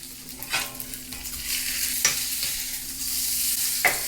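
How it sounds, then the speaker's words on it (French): Fried chicken rice being stirred with sauce in a sizzling pan, a steady frying hiss with scraping strokes of the spatula at intervals, close and moderately loud, no talking. "en même temps qu'on rajoute la sauce, on vient mélanger"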